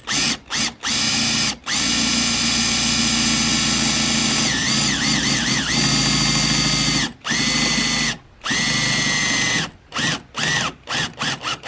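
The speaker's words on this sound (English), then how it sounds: "try to find the correct drill bits and the pop rivet gun" A power drill whirs loudly in repeated bursts, drilling holes for pop rivets while installing a light bar on a 2007 Ford F-250, short quick spurts and longer sustained runs with brief pauses between, close up and no talking.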